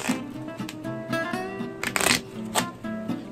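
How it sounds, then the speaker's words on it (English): A deck of playing cards is shuffled by hand in several bursts of riffling and flicking, close and clear, with no talking. "shuffle the cards."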